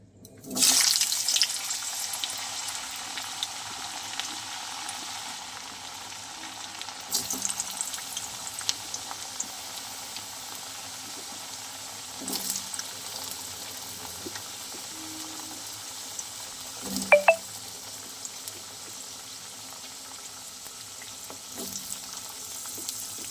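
Potatoes fry in hot oil in a wok, a long wash of sizzling with occasional clanks and stirring knocks from a utensil, moderately loud and steady, without speech.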